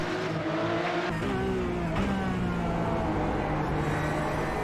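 Race cars at Bathurst in a sim racing game, an onboard engine note droning steadily at high revs with gear-shift pitch drops, loud and continuous with a rival car audible nearby.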